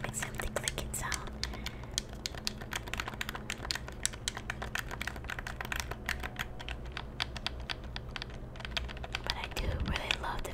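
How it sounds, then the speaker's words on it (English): Rapid, dense clicking from a train in the video game Division 2 runs steadily and close up throughout, with a faint whispery layer beneath. "just to hear the train kind of make something clicking sound"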